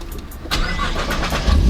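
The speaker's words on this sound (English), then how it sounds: "we got the first startup here and the GTR" A modded Nissan GTR engine cranks and catches on its first startup, a short churning burst that rises into a loud, deep, close revving rumble with no voices over it.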